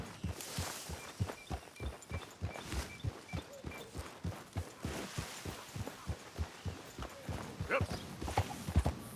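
Horse hooves clip-clop at a steady walking rhythm in the Red Dead Redemption 2 video game, close and even throughout, with a brief spoken word partway through.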